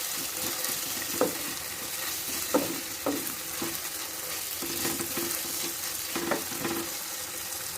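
Tomatoes and green chilies sizzle steadily in a frying pan, with a few sharp clinks from a stirring spoon against the pan breaking through the continuous fry.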